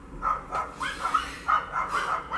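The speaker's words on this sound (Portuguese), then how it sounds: "E os cachorros não me deixam falar." Several dogs bark repeatedly indoors in quick uneven bursts, close and fairly loud, with a few short yips mixed in.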